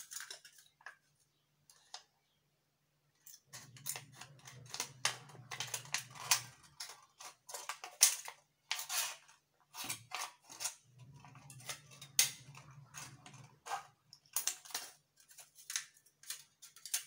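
Scissors trim fabric for a laser-cut look on Asooke cloth. Many crisp, close snips come in irregular bursts separated by brief pauses, with a low hum at times underneath.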